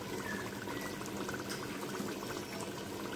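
Meat and bottle gourd (ghiya gosht) frying in a pan, a steady soft bubbling sizzle with fine crackles running continuously at a low level, heard alone without talk.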